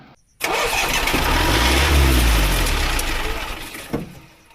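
A Swaraj Mazda truck engine cold-starts after sitting unused for years: a sudden loud catch and roar that settles into a rough, heavy running rumble before fading near the end.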